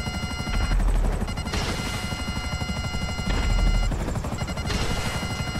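Helicopter in a video game, its rotor beating in a steady fast chop with a whining turbine tone, loud and continuous, with periodic thuds that could be gunfire.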